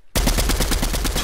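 Rapid automatic gunfire in a video game, a loud continuous burst of evenly spaced shots that begins abruptly and runs without pause, with no talk over it.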